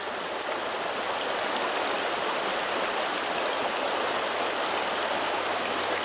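A creek runs outdoors in a steady, broadband rush of flowing water, constant and fairly loud throughout, with a faint low hum beneath and no voices.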